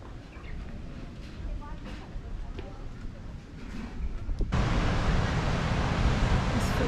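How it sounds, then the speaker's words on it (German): Ocean surf breaking against the cliffs below Uluwatu temple in Bali, a steady rushing wash that swells suddenly louder midway and stays loud, with wind noise over it. "Was für Wellen, ne?"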